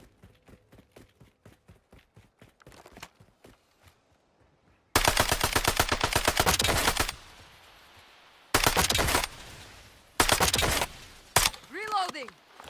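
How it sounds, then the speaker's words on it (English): Video game gunfire: a run of quieter single shots is followed by several loud, dense machine-gun bursts separated by short pauses, with a warbling sweep near the end. "I'm taking fire."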